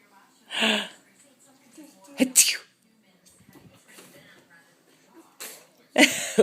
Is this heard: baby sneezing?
yes